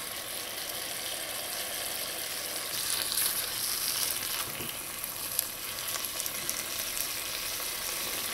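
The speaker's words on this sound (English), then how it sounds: "I'm just going to drop a little bit at a time until my sauce starts to thicken up" Jamaican patty sauce sizzling steadily in the pan as a cornstarch mixture is added a little at a time, a continuous bright hiss with faint stirring, no voices.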